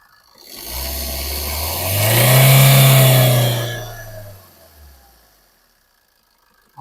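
A 2014 Maruti Swift VDI diesel car engine runs close by, rising into a loud rev that swells for a couple of seconds before easing back down and fading to quiet.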